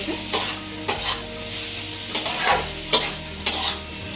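Potato and tomato masala sautéing in an oiled pan, with about six distinct stirring scrapes cutting through a low sizzle over a steady tonal background, and no talking.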